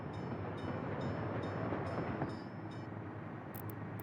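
A train rolling along a track in the city-building game Workers & Resources, a steady close rumble with faint periodic clicks of wheels over joints, heard alone.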